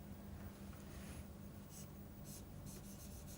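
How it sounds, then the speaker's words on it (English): Notes written by hand, a steady scratchy rubbing of strokes close by, continuous and fairly quiet with a few brighter scrapes, no talking. "So, we will write down"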